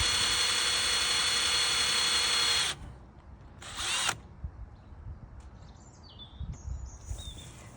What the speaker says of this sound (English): Then I'm going to go with a 5mm drill.